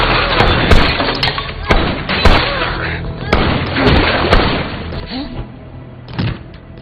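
Gunfire erupts during a shootout scene in a film, with a rapid series of sharp, loud bangs and booming thuds scattered across the stretch, some voices mixed in beneath the shots.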